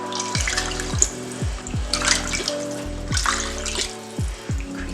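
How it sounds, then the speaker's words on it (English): Water pours into a pot of vegan tom yum soup, a steady splashing, gurgling stream heard close up over about five seconds, with no talking. "And then from here, I'm going to add in my water."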